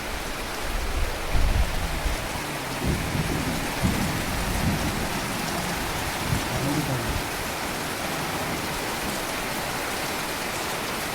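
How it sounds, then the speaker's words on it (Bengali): Heavy rain pours during a violent nighttime storm, a dense, loud hiss of downpour with low thunder rumbles early on, steady and unbroken. "হঠাৎ করে এরকম বৃষ্টি শুরু হয়ে গেছে"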